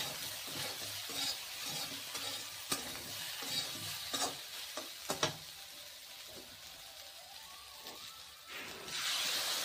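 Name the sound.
stirring eel and potatoes with turmeric and salt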